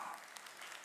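Congregation clapping during a Korean church worship service, a dense, steady patter of many hands at moderate distance, sustained through the whole short moment without a break.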